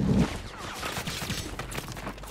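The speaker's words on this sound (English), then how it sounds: "Okay, I'm shooting." Gunfire in a shooter video game rattles as a dense, steady fusillade of rapid shots, loud and continuous through the whole stretch, with a heavier burst at the start.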